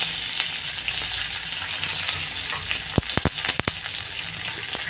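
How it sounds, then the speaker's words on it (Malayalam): Oil sizzles steadily in a pan, then a quick burst of sharp crackling pops breaks out as mustard seeds split in the heat, with curry leaves added. "കടുക് പൊട്ടി വന്നതിന് ശേഷം കറിവേപ്പിലയും കൂടി ചേർത്ത് കൊടുക്കുക."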